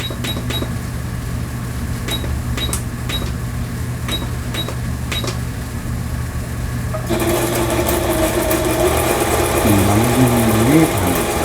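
A plastic-bodied home sewing machine runs an overlock stitch. There are sharp clicks at first, then a steady mechanical whir with a rising and falling motor hum, close and loud, with no voices.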